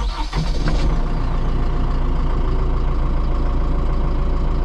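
An Arbos 4090 AF orchard tractor engine cranks and catches with a rough burst, then settles into a loud, steady, throbbing diesel idle close by.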